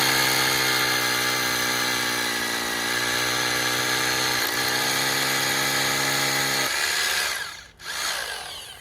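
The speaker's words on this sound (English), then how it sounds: "This is where the hammer drill comes in, because it makes light work of drilling concrete." A hammer drill bores into concrete for a Tapcon anchor while aluminum handrailing is being installed. A loud, steady whining motor drone shifts pitch partway through, stops briefly and then spins back up.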